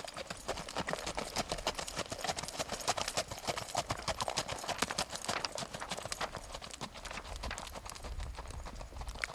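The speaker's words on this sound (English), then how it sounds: "She's just an all-around really, really nice horse." A Fox Trotter mare's hooves clip-clop steadily as she is ridden, a quick, even rhythm of close hoof falls throughout with no talking.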